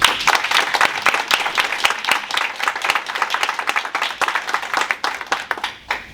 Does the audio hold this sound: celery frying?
no